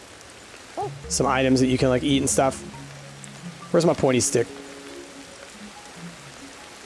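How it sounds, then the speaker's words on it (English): Steady rain patters on surfaces in the video game Ancestors: The Humankind Odyssey, a soft continuous hiss that runs beneath someone talking in two short bursts. "It's raining."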